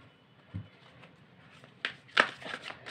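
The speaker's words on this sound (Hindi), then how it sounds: "ये तो मैंने निकाल दी हैं आपके कार्ड्स" Tarot cards being shuffled and drawn give soft, faint riffling and light card snaps, growing a little busier and crisper toward the end.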